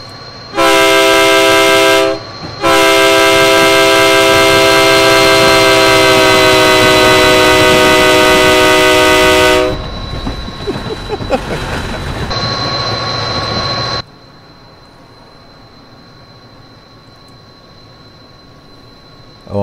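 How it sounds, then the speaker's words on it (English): A Train Simulator 2020 locomotive blasts a loud, sustained multi-tone horn in two bursts. A rumbling, clattering pass by the train cars follows, then a quieter high tone lingers before fading to near silence. "Here comes the train."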